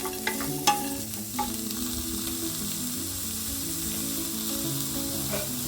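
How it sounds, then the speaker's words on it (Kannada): Onion and garlic masala for a village-style hot spicy rice mix fries with a steady, loud sizzle while a utensil stirs and scrapes the pan, with a few sharper clinks near the start. "ಇದೆಲ್ಲ ಚೆನ್ನಾಗಿ ಫ್ರೈ ಆಗಬೇಕು"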